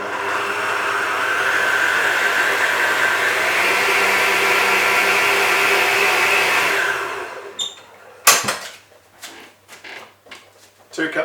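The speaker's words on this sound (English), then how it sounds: "I'll just beat the eggs into the mix first" An electric mixer whirs steadily for several seconds, beating eggs into an apple and rhubarb pie mix, then stops, followed by clattering knocks of the bowl and utensils.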